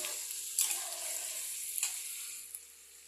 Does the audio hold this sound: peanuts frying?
yes